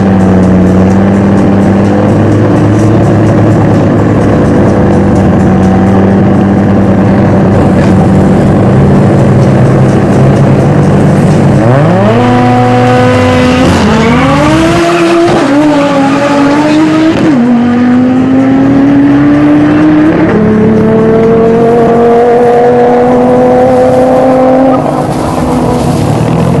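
Drag racing car roaring loudly down the strip, a sustained high-revving engine with rising pitch sweeps as it shifts gears and accelerates, continuous and close with no talk.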